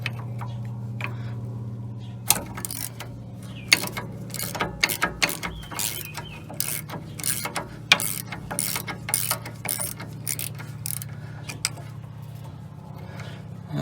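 A hand wrench ratchets repeatedly while brake caliper bolts are loosened, 21 mm held and 13 mm turned, on the rear brakes of a 2015–20 GMC Yukon or Escalade; sharp clicking bursts come close and irregular over a steady low hum.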